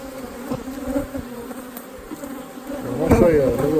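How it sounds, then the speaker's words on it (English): Honey bees buzz around hive boxes, a close, continuous insect drone with individual bees swelling louder as they pass near the microphone, with no talking. "The bees seem to be taking to them just fine."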